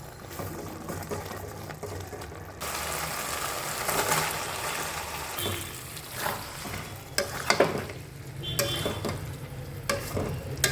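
Spices with yogurt and sugar stir-fry in hot oil, a steady close sizzle broken by scraping spoon strokes and a few louder clatters toward the end, with no talking.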